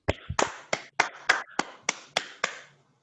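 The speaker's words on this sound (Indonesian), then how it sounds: "Pakai tepuk tangan untuk mengembalikan fokus kalian" A group of students clapping in a classroom makes about nine sharp, crisp claps in a steady, slightly uneven rhythm, close and clear, before stopping.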